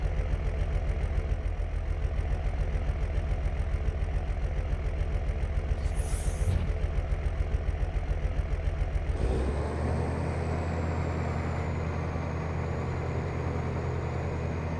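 A farm tractor idles during canola drilling, its steady, close, low, throbbing rumble running throughout, with a short high beep partway and a shift in engine tone near the end.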